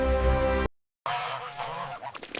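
Geese at a foie gras farm housing 7,000 birds honk loudly in a dense, overlapping chorus, broken by a brief silence before the flock's calls resume in a busier, more scattered jumble.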